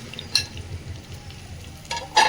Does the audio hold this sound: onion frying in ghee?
yes